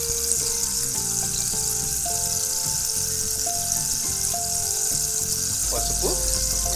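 Prawns fry and sizzle in a pan as they are stirred, with turmeric going in, a steady close crackle running throughout without talk.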